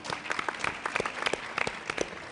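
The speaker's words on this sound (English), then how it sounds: "Let's give Kate a round of applause, please." An audience at a technology roundtable luncheon claps steadily, a dense patter of many hands kept at moderate volume without voices.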